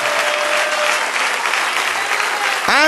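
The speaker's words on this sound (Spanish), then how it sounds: "Dale un aplauso al Señor" A church congregation breaks into loud, dense applause for the Lord during a Spanish-language worship service, sustained clapping throughout with a short musical swell rising at the end.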